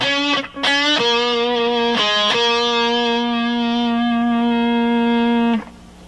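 A distorted electric guitar plays a rock riff. A few quick sliding notes lead into one long, held, buzzing note that rings out before cutting off.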